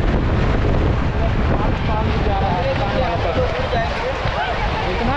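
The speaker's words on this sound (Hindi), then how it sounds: "देख सकते हैं बहुत ज़्यादा हवा चल रहा है" Strong wind buffets the microphone in a constant roaring rush at an outdoor Mahashivratri fair in Sarasoro, Chhattisgarh, with faint voices speaking underneath.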